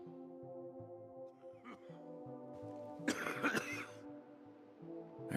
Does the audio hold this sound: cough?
yes